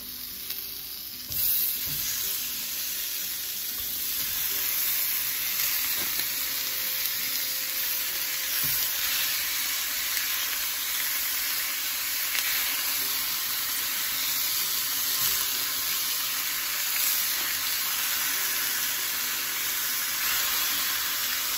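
Hamburger meat frying in a wok, a loud, steady, dense sizzle and hiss that holds for the whole stretch, with occasional faint stirring knocks and no talking.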